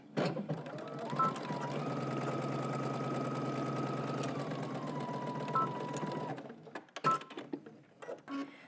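A sewing machine stitches darts in a steady run of rapid, even stitching, briefly pausing and changing speed for backstitches at the start and end, then a few short bursts of stitching and clicks after it stops.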